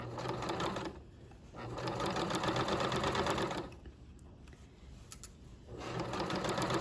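Sewing machine running a straight stitch seam at 2.5 length while making a French seam, steady close mechanical whirring in three long bursts separated by short pauses.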